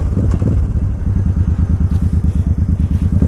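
A Suzuki Boulevard 800cc cruiser motorcycle idles or rides with a loud, steady, throbbing engine pulse, close up and continuous, with no talking.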